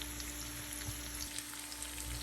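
Meat frying in a pan, seasoned with salt and sweet soy sauce, giving a steady, close crackling sizzle with small pops throughout and no talk.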